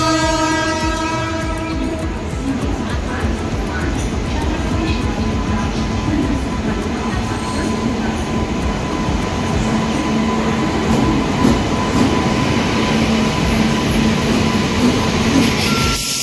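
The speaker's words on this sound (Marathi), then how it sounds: "ट्रेन थांबली" A Konkan Railway train on the Mumbai–Panvel to Thivim route pulls into a station, a loud steady rumble of wheels and carriages with a sustained horn-like tone, continuous and close for the whole stretch.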